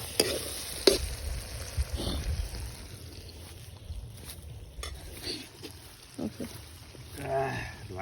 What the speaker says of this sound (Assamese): এয়া বিলাহী ফ্ৰাই কৰি আছে, বিলাহী, পিঁয়াজ, আদা, নহৰু